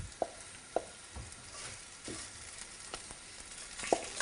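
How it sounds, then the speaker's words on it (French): Shrimp sizzle steadily in hot oil in a pan, a soft continuous frying hiss with a few sharp pops and clinks of a utensil. "Dès qu'effectivement l'huile est bien chaude, on pourra faire glisser les crevettes."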